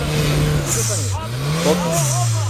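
The engine of a modified turbo Suzuki Samurai revs loudly and close, its pitch falling, then climbing and dropping again as the throttle is worked, with voices talking over it.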